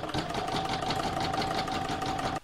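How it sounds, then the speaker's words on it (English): Computerized embroidery machine stitching a round of a heart-pattern quilted placemat, a steady dense rapid needle clatter with a faint constant whine, running alone up close before stopping abruptly near the end. "So I'm now going to pop this into my machine and stitch round number 3."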